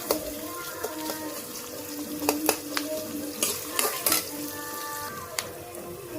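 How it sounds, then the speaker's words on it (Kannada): Sheep head curry fries in hot oil, a continuous close sizzle punctuated by sharp metallic clinks and scrapes of a utensil against the pan, with no talking. "ಚೆನ್ನಾಗಿ ಎಣ್ಣೆ ಕಾದಿದೆ. ಚೆನ್ನಾಗಿ ಫ್ರೈ ಮಾಡ್ಕೊಳ್ಳೋಣ ಇದನ್ನು."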